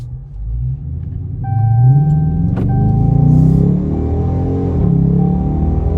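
A deep, loud engine rumble from a 2023 Dodge Charger R/T Blacktop Edition, idling and swelling slightly while reversing, heard from inside the car, with a faint electronic chime beeping over it.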